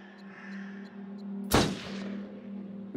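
Single gunshot in the horror video game Until Dawn, one loud sharp blast with a short decaying tail over a steady low ambient hum.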